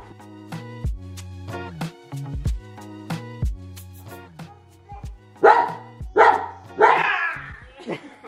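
A Cane Corso lets out a run of short, sharp barks, steady and close, while a high-pitched remote-control toy car whines underneath and people talk over the end.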